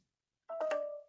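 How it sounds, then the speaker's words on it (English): A phone gives a short battery saver alert, a single clear electronic tone that rings out after a brief silence and holds steady before fading, heard alone in a quiet room. "I think that was my phone telling me I'm on battery saver."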